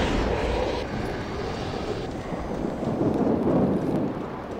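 Thunderstorm from the video game The Darkness: a steady, loud low rumble of thunder and rain that swells slightly toward the end, with no talking over it.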